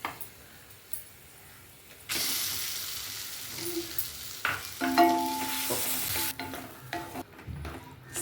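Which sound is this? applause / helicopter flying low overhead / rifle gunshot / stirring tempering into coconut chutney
stirring tempering into coconut chutney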